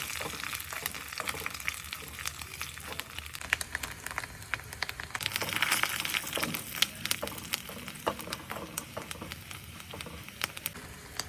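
Coconut pieces frying in ghee in a pan while making a mixed semiya payasam, a steady close sizzle and crackle with occasional stirring scrapes, with no talk.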